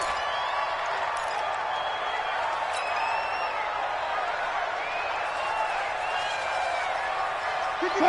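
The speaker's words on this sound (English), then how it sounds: "Combined with this crowd noise, makes it very difficult to run offense." Simulated stadium crowd in the Madden 20 football video game during a Seahawks vs Cardinals divisional playoff, a constant dense roar with faint whoops, heard beneath commentary.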